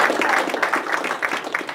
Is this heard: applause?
yes